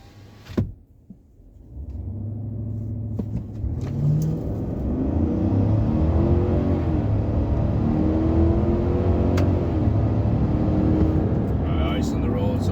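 A GMC Sierra's 5.3 V8 on a night drive revs hard and accelerates, its rising engine pitch sweeping up in several strong pulls over a steady road roar, close and loud inside the cab.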